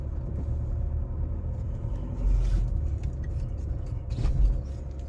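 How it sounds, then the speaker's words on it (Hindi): A Honda City with a suspension fault, driven while a dull knocking comes from underneath: low road rumble with two distinct thumps, over a steady cabin drone. "ऐसे आवाज़ आ रही है जैसे खट खट कोई चीज़ लड़ रहा हो"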